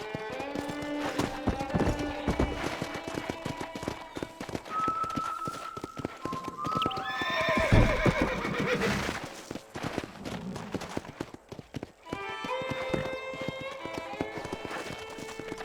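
In Red Dead Redemption, hooves clip-clop steadily with a brief horse whinny, amid game music and occasional voices.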